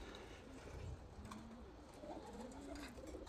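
Soft, low pigeon coos from a loft of about 85 racing pigeons drift in and out over a steady background hum, a few faint murmuring calls spread across the moment.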